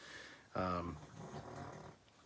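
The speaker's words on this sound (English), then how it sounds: "Yes, of course you hear a pug snoring." A pug snoring indoors at night, one short snorting breath with a rough, rattling tone, close and moderately loud against a quiet room.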